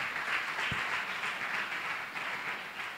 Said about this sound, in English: Clap your hand for Jesus.